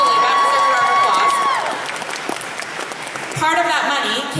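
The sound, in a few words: audience applause at opening ceremony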